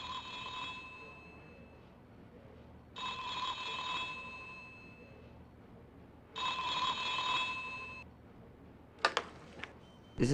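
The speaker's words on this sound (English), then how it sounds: "That's your phone." A telephone rings three times in the X-Files PS1 video game, each electronic trill lasting about two seconds with even pauses between, followed by a brief clatter at the end.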